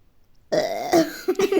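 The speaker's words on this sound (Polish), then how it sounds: "Ej, beknąłem ci w twarz." One loud, close burp rumbles out after a moment of silence and runs for about a second.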